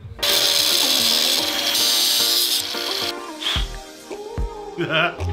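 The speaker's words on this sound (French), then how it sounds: "Donc on va meuler." An angle grinder works metal during preparation of a drift car, producing loud, close, high-pitched grinding in sustained bursts with changing pitch as the disc bites and eases off. Brief voices can be heard toward the end.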